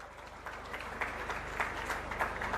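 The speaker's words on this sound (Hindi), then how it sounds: "एक बार जोरदार ताली बजा दो" Crowd applause at a public event at the Chief Minister's House in Raipur, a steady dense patter of many hands clapping, moderately distant and continuous throughout.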